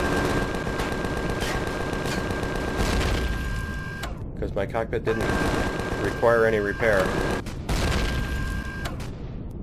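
Weapons firing in the space game Empyrion, dense rapid bursts of gunfire and booms that run through most of the stretch, with someone talking over them.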